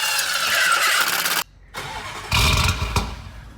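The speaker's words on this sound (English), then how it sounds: "throw the engine cover on, and start this thing up." A straight-piped Lamborghini Urus, recently wrecked, cranks and fires up after its engine cover goes back on, with a loud burst, a short gap, then another rough surge of engine noise nearby and no talk.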